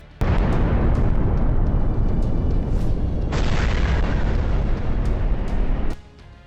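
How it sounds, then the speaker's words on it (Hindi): A powerful blast from a GLSDB guided bomb strike in Luhansk, heard as a sustained, loud roaring boom with dense low rumble that holds for about six seconds before cutting off abruptly. "जबरदस्त धमाके का ये वीडियो लुहांस्क का है।"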